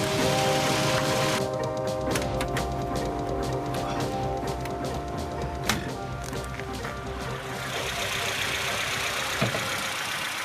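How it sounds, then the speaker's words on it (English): A 1960s BMW 1500 Neue Klasse's M10 inline four-cylinder engine hums steadily at moderate revs while driving, with interior rattles and a couple of faint clicks, continuous throughout and fairly close. "Driving around in a BMW 1500 Neue Klasse, a 1960s mid-range production car"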